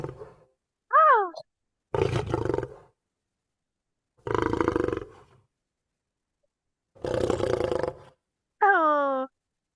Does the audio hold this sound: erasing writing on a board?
no